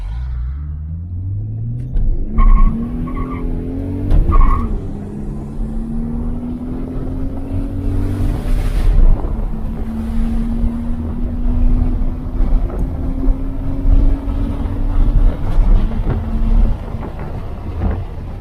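A freshly imported Nissan Skyline R32 drifts, heard from the back seat: a loud droning engine whose pitch rises and holds through long revs, with rumbling cabin and road noise and occasional bursts.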